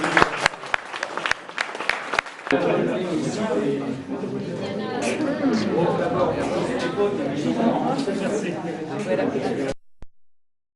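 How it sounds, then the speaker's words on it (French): An audience at a remembrance ceremony in La Ferté-Gaucher claps. A few sharp isolated claps come first, then dense sustained applause with crowd chatter underneath, before it stops abruptly. "On applaudit."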